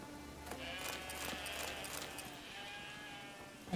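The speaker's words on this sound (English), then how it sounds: "Yeah, got a lot of sheeps here." Sheep in The Witcher 3 video game bleat several times in quick succession over a soft ambient background, fairly faint and close, with no talk.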